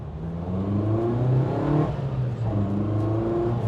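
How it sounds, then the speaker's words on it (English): A Nissan Sunny truck (Datsun 1200) engine runs steadily, then its note sags as the throttle lifts and climbs again as it recovers, close and loud with no talking. "as you're coming off the throttle, it goes, ugh, and then it picks back up again"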